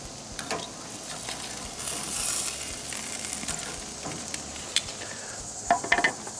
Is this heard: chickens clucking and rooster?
no